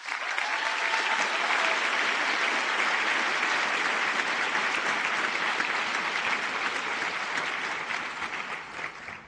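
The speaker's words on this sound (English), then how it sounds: "Please join me in recognizing them with a round of applause." An audience applauds at the Florida Southern College nursing pinning ceremony, a dense and steady wash of clapping that holds for about nine seconds before starting to fade.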